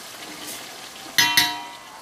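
Chicken with garlic and ginger paste frying in a pan with onions for a pulao, a steady soft sizzle with two sharp bursts of hissing as the mixture is stirred.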